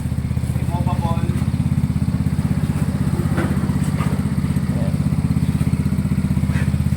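Engine of a 200cc automatic mini jeep idling nearby, a steady rapid low putter throughout, with a person talking over it.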